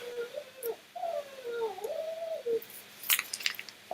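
Dog, a Shiba, giving a high whining howl that rises and wavers for a couple of seconds, fairly close but quiet, followed by a few light clicks and rustles.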